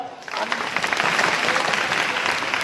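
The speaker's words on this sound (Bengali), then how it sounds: "ওর জন্য একটা তালি দাও" Audience applause at a puppet show on sexual and reproductive health, a dense burst of clapping that starts abruptly and stays loud and steady throughout.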